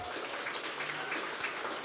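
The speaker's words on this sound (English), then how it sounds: "Give yourselves a big round of applause for here to celebrate that." Audience applause at a Twin Cities community celebration, a steady dense wash of many hands clapping throughout, moderately loud and continuous with no voices on top.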